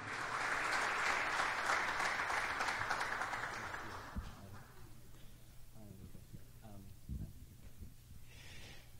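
A church congregation bursts into loud applause to welcome a prophet; the clapping swells at the start, then fades over several seconds as a voice speaks and takes over.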